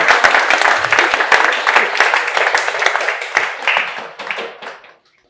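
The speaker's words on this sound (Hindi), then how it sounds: "आप लोग तालियां भी बजा सकते हैं।" Lecture audience at MNIT Jaipur breaking into sustained clapping, a dense burst of many hands that holds for several seconds, then thins and stops, with faint voices beneath.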